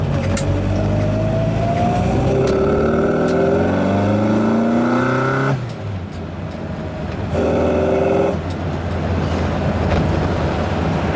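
A Mk3 Mini Cooper S engine with twin carburettors revs up through the gears with rising pitch, drops off, then revs again briefly before settling into a steady drone.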